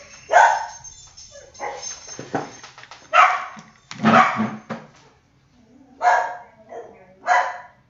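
A dog barks and yips in several loud bursts, the pauses between filled with softer whines, fairly close to the microphone.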